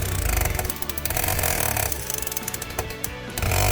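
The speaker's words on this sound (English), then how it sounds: "I'm switching to the hammer handpiece to tap down the tip of the claws." A rapid mechanical hammer handpiece taps down the metal claw tips of a jewelry stone setting in fast, steady bursts, close and loud, with brief pauses between runs of tapping.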